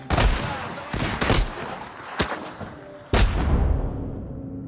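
Gunfire from the video game Partisans 1941: several loud, sharp shots in quick bursts, each a broadband crack with a short decay, one heavy blast near the end fading into a ringing tail.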